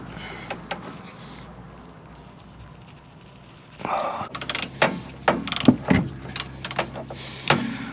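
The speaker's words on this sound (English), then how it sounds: "I've got them cracked off now, but these carrier bolts were bloody tight" A ratchet clicks in short, close bursts while loosening tight brake carrier bolts on a Peugeot 208, among clanks of tools in a quiet garage.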